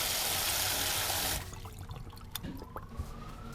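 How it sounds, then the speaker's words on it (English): Running water streams steadily from a tap as pumpkin seeds are rinsed clean of their goo, a loud broadband wash for over a second that then drops to softer trickling, dripping and light splashes. "rinse thoroughly and get all the goo off"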